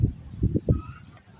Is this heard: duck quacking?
yes